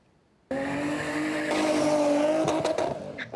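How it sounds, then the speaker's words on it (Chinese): At a race car festival at a high-speed rail station, a racing car engine suddenly roars up loud and close, its pitch climbing as it revs, with brief tire squeals toward the end. "一台一台的赛车声音轰轰叫，真声动北。"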